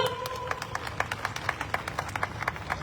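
A rally crowd claps in steady rhythmic unison to welcome a state leader on stage, sharp regular beats repeating about twice per second over a murmuring background.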